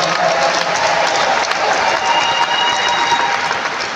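A church congregation applauds and acclaims the Lord with steady, dense clapping and crowd noise that fills the whole moment, close and loud without a break.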